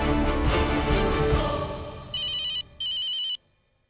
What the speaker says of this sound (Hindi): पहले जीज को फोन लगाओ।